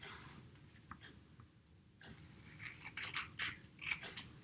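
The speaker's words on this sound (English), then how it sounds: "I'm going to actually take my scissors and turn this into a rectangle." Scissors snip through paper to cut a rectangle, with soft scraping and a few sharp cuts growing louder toward the end over a quiet room hum.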